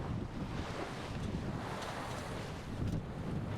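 Water rushes steadily past the hull of a sailing yacht at sea at night, a soft, continuous wash with wind noise, moderately quiet and unbroken by voices.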